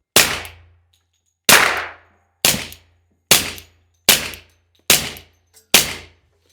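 An FN 510 pistol fires Federal ammunition in seven sharp, loud, evenly paced shots, each ringing briefly before fading, with short pauses between them.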